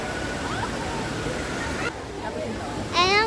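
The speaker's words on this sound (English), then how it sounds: "I am enjoying the Kashmir Waterfall." Dolai waterfall near Muzaffarabad in Kashmir roars as a steady broadband wash, with voices talking over it and a brief tonal sound near the end.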